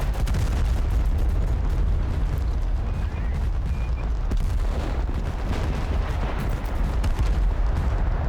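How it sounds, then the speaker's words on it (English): Artillery fire rumbles in the video game Total Conflict: Resistance, a dense continuous roar of booming blasts and gunfire that stays loud throughout the battle. "The artillery is somewhere in their spawn."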